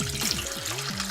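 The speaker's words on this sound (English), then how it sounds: "So we're going to put some more liquid down at the bottom." Liquid is poured into a turkey roasting pan to raise the level at the bottom for basting, giving a steady close splashing gurgle that runs unbroken throughout, with no talk.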